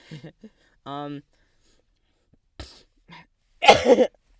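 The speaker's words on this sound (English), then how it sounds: "That cough. It's irritating." A single harsh cough bursts out near the end, loud and close, after a few brief vocal sounds and quiet gaps.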